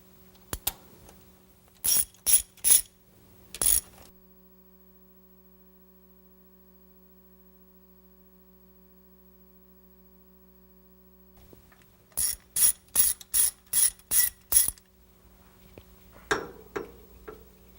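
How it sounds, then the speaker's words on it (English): A ratchet wrench clicks in quick bursts while loosening carburetor mounting bolts. Two groups of rapid, close clicks are separated by a long pause, over a steady electrical hum with no talk. "next we remove the mounting bolts"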